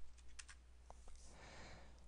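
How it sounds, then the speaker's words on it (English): Brief bursts of typing on a computer keyboard: a few quick key clicks and then two softer taps, close and quiet against a low hum, with no speech. "You want to just start typing clip 1."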